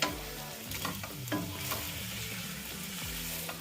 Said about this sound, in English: So now we're gonna mix it.